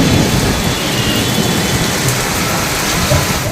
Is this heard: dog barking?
no